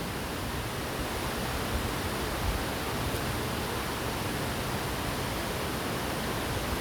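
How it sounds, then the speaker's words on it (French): A mountain waterfall rushes in a steady, even wash of falling water, moderately distant and unbroken for the whole stretch, with no voices. "Et cette cascade qui me chante la plus belle des sérénades."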